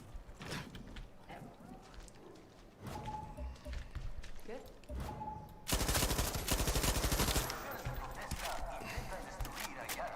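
Gunfire in Far Cry 6, bursts of rapid automatic shots mixed with single cracks, growing into a loud sustained volley midway, with game sounds and occasional talk around it.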